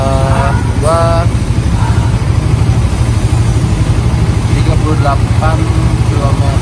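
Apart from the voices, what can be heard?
Suzuki GSX motorcycle riding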